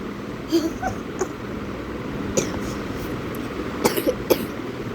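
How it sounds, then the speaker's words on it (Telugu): Several short, sharp coughs from a person with a slight cold, scattered across a few seconds over a steady low background, some in quick pairs. "కొంచెం దగ్గు వస్తుంది"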